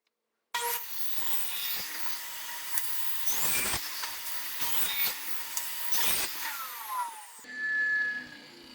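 A table saw runs steadily while cutting the corners of a walnut box, its whine broken by repeated louder bursts as each corner passes the blade, then spinning down at the end.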